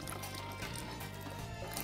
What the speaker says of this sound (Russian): Заливаем воду